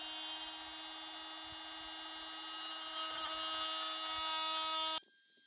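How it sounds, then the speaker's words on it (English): An oscillating multi-tool rebates hinge recesses into the wooden roof of a rabbit tractor, a high, buzzing whine heard up close that holds steady for about five seconds before cutting off abruptly. "I'm now using a multi-tool to rebate the hinges in order to not leave any gaps when the roof is closed."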